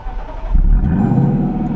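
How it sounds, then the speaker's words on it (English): The engine of a Lexus LC500 coupe starts up, with a brief starter churn then a loud, deep rumble that settles into a steady idle, close and alone. "you go to start it up."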